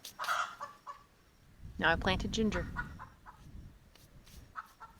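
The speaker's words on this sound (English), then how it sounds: "These chickens are going nuts" Chickens cluck and squawk in a backyard garden, with bursts of agitated calls near and far while a person speaks over them.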